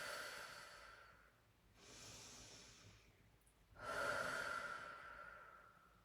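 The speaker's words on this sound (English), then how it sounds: "just have a couple of deep breaths" Slow, deep breaths from a person lying on a mat during an abs exercise session, two long soft exhalations close to the microphone with quiet pauses between them and no talking.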